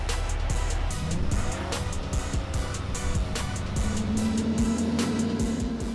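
A 2020 Corvette C8 runs hard in 5th gear on a dyno, a loud continuous engine roar with a heavy low rumble and a rising tone toward the end, steady and close throughout.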